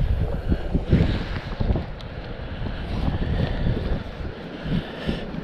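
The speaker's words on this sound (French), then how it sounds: "Bon, il y a un peu de vent." Steady seaside wind buffeting the microphone during summer fishing from the shore, with rumbling gusts and surf wash underneath, continuous and loud with no talking.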